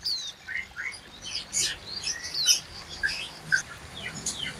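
A young ciblek bird chirps inside a bird shop, giving short, high, scattered tweets and twitters at irregular intervals over a quiet, hissy background.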